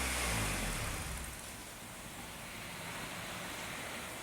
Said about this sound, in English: Go ahead and let the idle drop, or take your foot off the throttle.